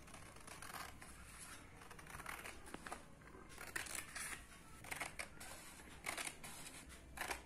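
Scissors snip through a 15 by 20 paper rectangle for a school craft, giving a steady run of close, quiet crisp cuts and rustles with no talking.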